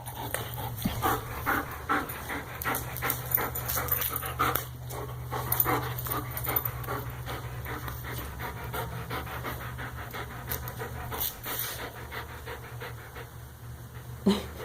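A heartworm-positive dog pants rapidly and hard while gripping and tugging a ball, close to the microphone, with a steady low hum underneath and occasional faint whimpers.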